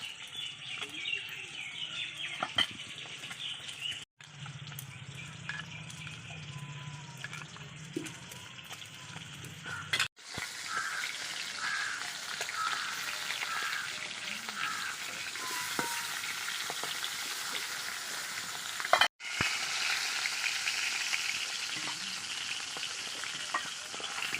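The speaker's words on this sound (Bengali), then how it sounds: "মাছটাও ভেজে নেব ওই তেলে আমি বেগুনটা ভেজে নিচ্ছি" Eggplant frying in hot oil, cooked for a rohu fish curry with potatoes, gives a steady soft sizzle throughout, with a few brief clatters and pauses as pieces are stirred; no one speaks.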